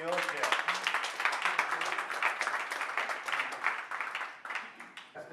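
A conference audience at a tech week event gives a round of applause, dense overlapping clapping with some voices mixed in, holding steady before tapering off near the end.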